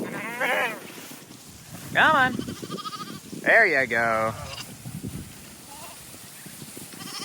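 Sheep being moved onto small grazing paddocks on a farm, several loud nearby bleats in separate bursts, with a voice calling and coaxing them between the cries.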